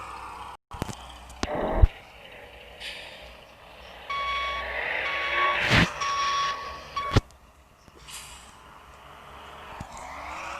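A garbage truck in a simulator video game reverses to park, steady reversing beeps sounding under engine hum and scattered mechanical clunks and hisses, with no talk.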